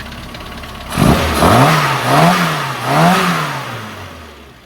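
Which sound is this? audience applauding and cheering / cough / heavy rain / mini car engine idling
mini car engine idling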